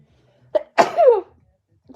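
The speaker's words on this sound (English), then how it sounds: "I'm going to sneeze again." A person sneezes once, loud and close, with a short sharp intake of breath just before the burst, then quiet.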